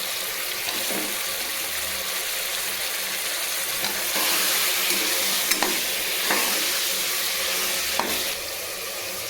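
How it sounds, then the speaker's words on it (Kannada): Eggplant pieces frying in a pan of oil and ghee after onion and ginger-garlic paste, for vangi bath: a steady, close sizzle with occasional sharp stirring scrapes and ticks, no talking. "ಈಗ ಬದನೆಕಾಯಿ ಹಾಕ್ತೀನಿ."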